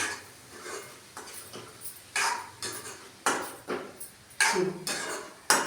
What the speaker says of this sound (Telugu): ఇది వేసి ఇలా కలుపుతున్నాను.